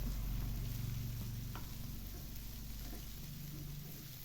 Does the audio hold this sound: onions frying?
yes